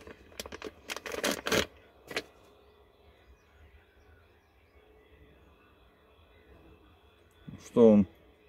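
The plastic packet around a mass air flow sensor for a Mazda Atenza is crinkled and torn open in several quick, close bursts, followed by a quiet stretch and a brief voice near the end.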